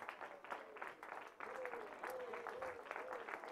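Church congregation clapping in praise to the Lord during a French-language sermon, a steady moderate patter of hands with voices and a sustained vocal tone mixed in underneath.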